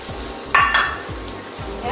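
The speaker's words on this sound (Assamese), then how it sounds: "ডিমখিনি ভাজি ল'ব পাৰে, লাহে লাহে লৰাব।" Egg and potato pieces fry and get stirred in a pan for a hot, spicy egg-potato fry. A steady sizzle runs under repeated scraping strokes, with a brief louder burst of crackle partway through.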